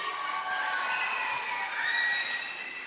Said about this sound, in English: clap it up one more time for Junie